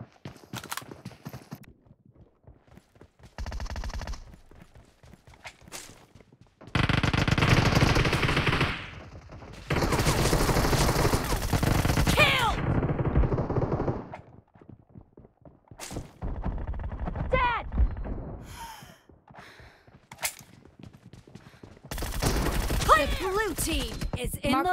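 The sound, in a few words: gunfire from a multiplayer shooter video game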